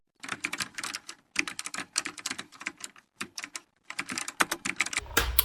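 Rapid clatter of typing on a computer keyboard, close and fairly loud, in bursts with short pauses, ending with a brief low rumble.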